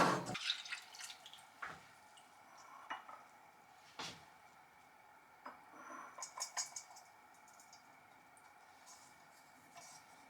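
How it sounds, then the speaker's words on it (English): Oil drips into a glass container in a quiet room, with a few soft, sparse drips and small clinks spread over several seconds. "I'm going to pour this into my container"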